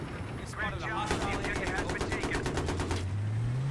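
Rapid automatic gunfire in the video game Battlefield 3 on the Caspian Border map, a loud burst of repeated shots lasting about two seconds amid game sounds.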